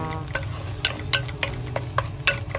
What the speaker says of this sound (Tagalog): Tapos halo ulit. Halo dito, halo dyan.